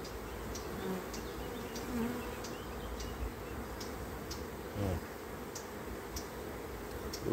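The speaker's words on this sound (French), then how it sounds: "Les abeilles sont très nombreuses" Many honeybees buzz steadily around a hive, a constant close drone with faint ticking clicks scattered throughout.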